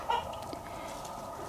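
A hen clucks near a farmhouse after laying an egg, a short burst of calls early on that then trails into a steady, moderately quiet run of clucking with a few sharper notes.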